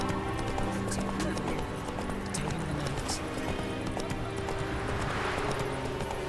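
Horse galloping in The Witcher 3: Wild Hunt, a steady run of hoofbeats over dense game ambience with a brief neigh and voices in the background.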